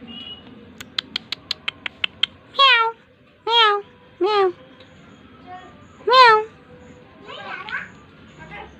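A cat gives several clear, drawn-out meows one after another after a series of quick clicking taps, close and fairly loud.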